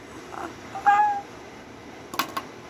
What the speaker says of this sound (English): That cat right there, the one I'm talking about